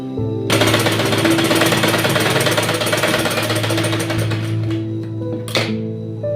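Sewing machine running a continuous loud, rattling stitch while sewing piping on a baby girl's dress, steady for about five seconds before slowing and stopping with a final clack.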